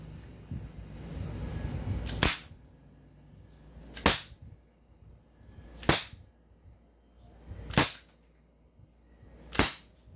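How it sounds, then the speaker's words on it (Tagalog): An SRC Mid Titan airsoft revolver fitted with a red dot sight fires five sharp, loud shots at roughly two-second intervals, each crack standing alone with quiet pauses between. "This is the SRC Mid Titan Revolver equipped with a red dot scope. Firing po tayo. Firing!"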